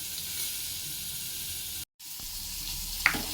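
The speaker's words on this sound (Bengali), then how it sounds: "এরকম ভাজা হয়ে গেছে" Vegetables frying in a pan for a vegetarian dish, a steady close sizzle running throughout, broken by a brief silent gap, with a small clink near the end.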